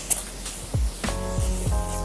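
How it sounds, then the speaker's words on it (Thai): A Maresca Black Snail Facial Watery Mist bottle is pumped in a few short sprays. Its soft hisses sit among clicks of the pump and faint handling noise. "เราฉีดสเปรย์น้ำแรกค่ะอันนี้ของ Maresca นะคะ Black Snail Facial Watery Mist ค่ะ"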